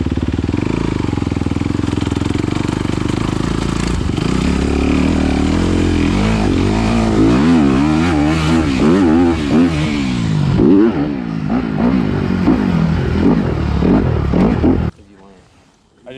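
Kawasaki KX450 dirt bike engine roaring and revving loudly and continuously on a muddy track, with wavering pitch through acceleration and landings, then cutting off abruptly near the end; voices are faintly mixed in.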